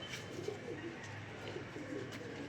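Pigeons cooing in a loft, soft low repeated coos from a few birds, faint and distant against a steady background hum.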